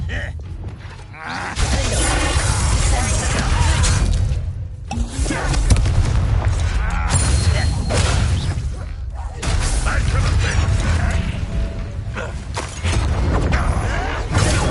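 Bombarda spell explosions in a Harry Potter video game, loud booming blasts with crashing debris and clattering that come in bursts separated by short quiet gaps, with a voice talking in between.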